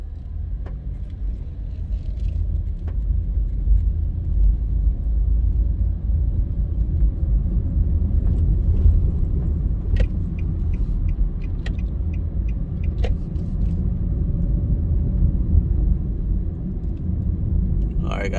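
Car driving through Half Way Tree at 5:30 am on city roads, heard as a steady, loud low road and engine rumble from inside the vehicle, with a few faint ticks over it.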